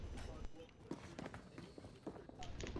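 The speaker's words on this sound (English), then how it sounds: "I heard a lot of footsteps" Rapid footsteps in Call of Duty: Modern Warfare, a quick run of soft steps moving across a floor, faint and close, under players talking.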